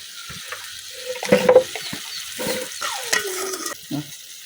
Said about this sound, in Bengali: এখন মশলাটা কিছুক্ষণ কষাইলাম